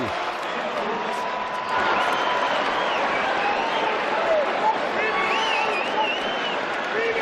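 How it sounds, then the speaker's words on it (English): A capacity crowd at an NCAA men's college basketball game between Colorado State and New Mexico in an Albuquerque arena roars and applauds, a loud, steady wash of cheering that swells slightly partway through and holds to the end. "what a capacity crowd really into this game"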